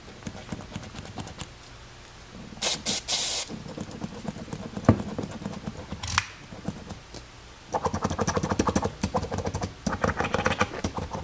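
Short hissing bursts of spray lubricant are aimed at the 4WD button of a 2002 Toyota 4Runner, mixed with clicking and rattling as the button is pressed repeatedly, close and fairly quiet.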